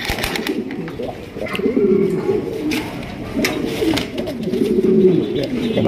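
A large male Maltese pigeon coos loudly and close by in repeated throaty rolling calls, with light background noise between the phrases.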